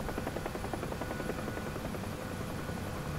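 A UH-1 Huey helicopter in the DCS flight simulator, its rotor and turbine producing a dense, constant loud whir with a rapid rhythmic blade chop throughout.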